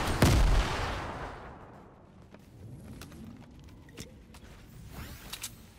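A grenade goes off in the Fortnite video game with one loud, close blast that fades. Scattered smaller bangs and clicks follow at a lower level, with no speech.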